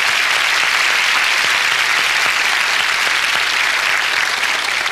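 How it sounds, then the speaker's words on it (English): A large audience gives loud, sustained applause at a ministry gathering, a dense continuous wash of clapping that stays even throughout. "Why don't you give Lenore a round of applause, please?"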